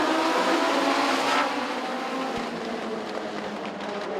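Legends race cars accelerating at Southside Speedway as the green flag comes out, a loud, continuous roar of several engines droning together and sweeping past, with no talk.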